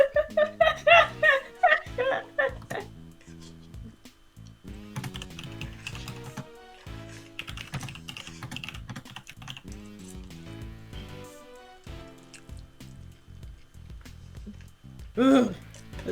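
Rapid keyboard typing in bursts during a playthrough of Ace Attorney Investigations Collection, with clattering keystrokes close by and talk and laughter over and between them.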